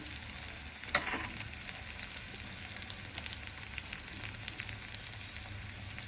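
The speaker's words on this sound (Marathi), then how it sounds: "त्यात थोडं जिरं टाकायचं आहे" Cumin seeds sizzle softly in hot oil with crushed green chili and garlic for a dhaba-style whole masoor dal tadka, a steady quiet frying hiss with one brief crackling burst near the start.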